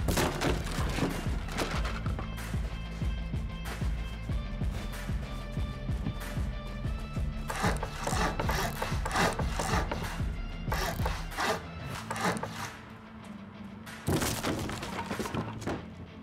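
Base pieces in a video game break apart under a hammer, with a rapid series of hard wooden thunks and crunching knocks in dense bursts, a short pause, then more heavy hits.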